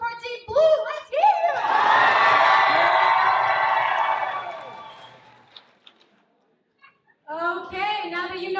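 A crowd in one section of a show audience cheers for Team Blue, a swelling roar of many voices sustained for a few seconds before fading, with shouted talk heard around it.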